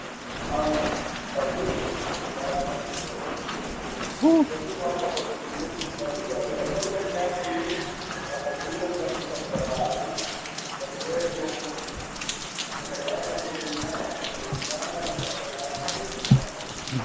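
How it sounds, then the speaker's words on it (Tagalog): Steady heavy rain pours down on a surface, a dense continuous hiss with scattered louder drops throughout. "Malakas na naman ang ulan."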